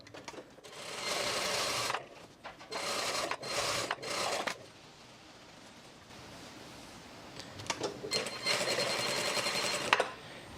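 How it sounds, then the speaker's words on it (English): A sewing machine stitches twill tape onto a pair of pants in bursts, running steadily, pausing for about two seconds, then starting again, close and clear with no voices. "Now I'm just going to sew on the other side of the twill tape just to help hold it down further."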